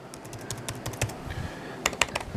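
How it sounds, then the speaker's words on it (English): Typing on the keyboard of a new 2016 MacBook Pro, a quick run of crisp, loud, close keystrokes with an uneven rhythm and a couple of sharper clacks near the end. "And this, typing with one hand here"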